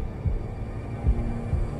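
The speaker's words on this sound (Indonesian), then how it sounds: "Kayak detak jantung." Heartbeat in an animated Murder Drones episode: three low, soft thumps spaced roughly three-quarters of a second apart, a slow throbbing pulse over a steady low hum, with no talking.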